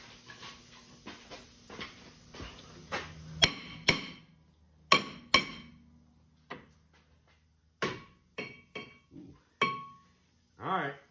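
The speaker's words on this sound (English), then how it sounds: "Grab our trusty hammer." A hammer strikes the rear brake rotor of a 2003 Grand Am, landing about a dozen close, sharp metallic blows at an irregular pace, some leaving a brief ringing tail.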